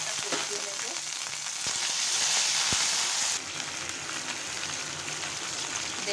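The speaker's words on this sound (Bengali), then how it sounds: "একটু মশলাটা কষিয়ে নেব।" Ginger, cinnamon and cardamom fry in hot oil with a steady, dense sizzle and crackle, close and continuous, plus a brief stirring clatter before the sizzle settles slightly quieter.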